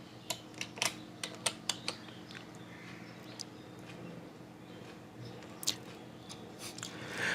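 Someone types a short search into a WordPress plugin search box on a computer keyboard, giving a handful of crisp, close key clicks in quick bursts over a quiet room.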